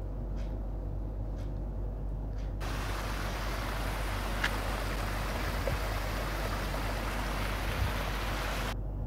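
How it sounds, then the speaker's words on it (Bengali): Muddy water streams along a channel while walking through Yercaud, a steady broadband rushing wash that runs continuously and fairly close, with no voices over it. "জলের ধারা চলে গেছে"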